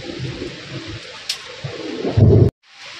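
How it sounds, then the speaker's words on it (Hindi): Heavy rain falls outside a hut under construction, a steady wash of rain with low rumbling thunder and a loud burst of close noise before it cuts off abruptly. "जोरदार वर्षा है"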